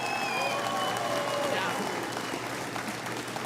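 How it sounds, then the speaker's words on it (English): An audience applauds Alberta firefighters, a moderate wash of many hands clapping under a crowd, with a few brief tonal notes early on that fade as the clapping continues. "I'd ask all of us to stand here and applaud our heroes of Alberta."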